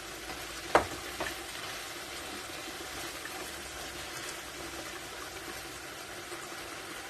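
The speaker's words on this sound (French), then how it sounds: "Faut continuer de mélanger jusqu'à on voit tous les légumes. Ils sont un peu caramélisés, ils sont un peu bien cuits." Vegetables for ratatouille fry in a pan with a steady soft sizzle, broken by a sharp utensil clatter near the start as they are stirred, then a quieter hiss continuing alone.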